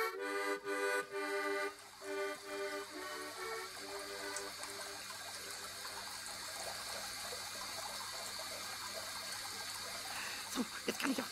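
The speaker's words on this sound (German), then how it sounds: "So, jetzt kann ich auch den Wasserhahn zudrehen." Tap water runs steadily for several seconds, a continuous trickling wash that starts after a few brief knocks and continues alone without talk until near the end.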